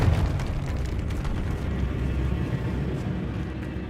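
A Confringo fire-blast spell explodes in Hogwarts Legacy, a loud, rumbling burst that rolls on as a dense, steady roar for several seconds with no voices.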